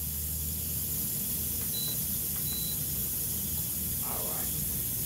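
Electric pressure cooker venting steam after cooking a pot roast: a steady, loud broadband hiss runs unbroken throughout, with a few faint beeps and small sounds of movement nearby.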